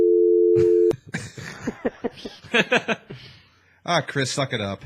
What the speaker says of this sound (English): We're trying to call 911, but all we get is a dial tone.